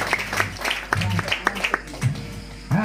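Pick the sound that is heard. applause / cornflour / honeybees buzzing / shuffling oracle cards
applause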